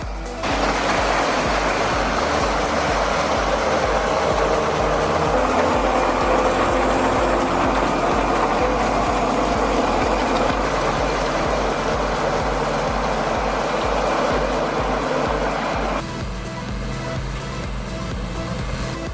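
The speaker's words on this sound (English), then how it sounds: "The engine roars, and the remarkable strength of the machine allows it to easily overcome the challenging conditions" A forestry harvester built on a Mercedes truck with T150K tractor axles roars steadily at full load for most of the stretch, then the engine note drops and settles near the end.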